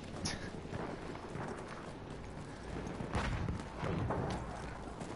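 Horse hooves clip-clopping in the video game Battlefield 1, a dense run of quick hoof strikes under noisy battlefield ambience, faint and continuous with no clear talk.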